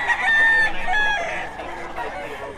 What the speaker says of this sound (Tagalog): Pakita natin yung mga manok ni Boss Rod